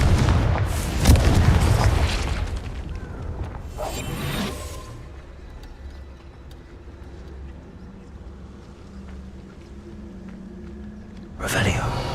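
Confringo blasting spell from Hogwarts Legacy: a loud, rumbling explosion at the start, a second burst a few seconds later, then a quieter stretch before another blast near the end, with someone talking.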